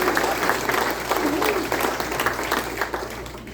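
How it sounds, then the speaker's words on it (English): Round of applause for candidates at an election forum, a room of people clapping steadily, moderately loud, with a voice briefly heard over it and the clapping thinning toward the end. "I'd like to just give them a round of applause"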